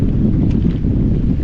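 Steady, loud wind rushing across a microphone while sailing solo in roughly 5 to 10 knots, with a constant low buffeting and no other distinct sounds.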